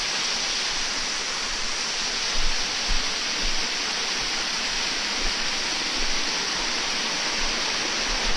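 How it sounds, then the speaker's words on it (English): A waterfall pours in a constant broadband hiss, even and unbroken, with a few faint low thumps beneath and no talking. "Follow the waterfall to where it goes."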